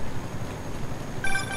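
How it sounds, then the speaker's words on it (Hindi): A phone rings in the video game Marvel's Spider-Man Remastered, a short electronic trill that starts near the end over steady game ambience. "अबे ये भी अभी फोन ही कर रही है।"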